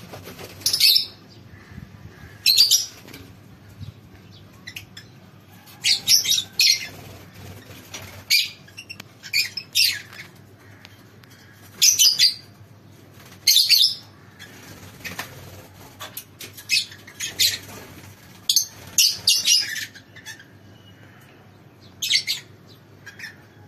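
Caged breeding birds give sharp, high chirps and squawks in short clustered bursts throughout, fairly near, over a low steady background hum with no talking.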